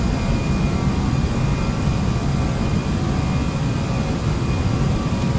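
Airbus A318 jet engines roar steadily through a takeoff roll in Flight Simulator X, a loud, continuous broadband rumble with a faint high whine, no talk over it.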